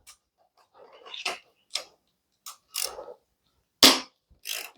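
Ratchet clicking in separate short bursts while loosening two pinch bolts on a Honda CRF450 Showa 47mm fork, the close, sharp pawl ticks separated by silent pauses.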